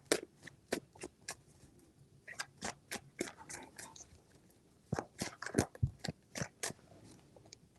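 Tarot cards shuffled by hand in a series of sharp, crisp riffling bursts and taps, close and fairly quiet, with brief pauses between.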